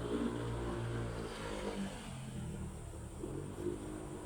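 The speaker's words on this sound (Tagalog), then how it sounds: "maingay ang mga sasakyan" Cars and traffic roll past continuously, a loud low rumble of engines with revving and accelerating vehicles, close by and with no voices over it.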